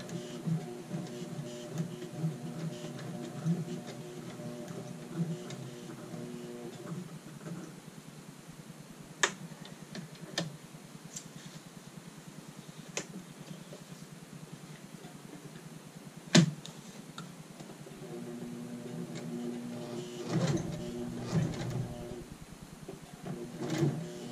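Domestic sewing machine running in short bursts while stitching an apron, with faint mechanical clicks and the needle being walked by hand near the end, plus occasional ticks and handling noises in between.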